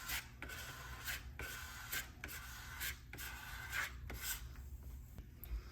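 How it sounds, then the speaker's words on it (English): A leveling tool scraping solder paste across a PCB stencil, with several gritty drawn-out passes and brief pauses between them, heard close up and without speech. "We have the nice little leveling tool that completely scrapes it all the way across to make sure that there is an even level of solder paste."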